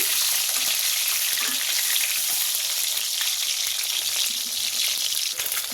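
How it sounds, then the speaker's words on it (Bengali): Eggs fry in hot oil in a pan with a loud, steady, close-up crackling sizzle that runs unbroken throughout, with no talking. "আমি ডিমটা ভেজে নিচ্ছি"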